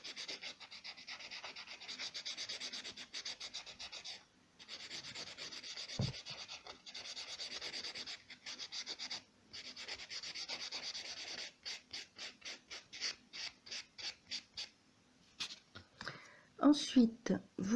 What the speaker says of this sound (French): vous prenez une petite ponce comme ceci afin de rayer légèrement votre ongle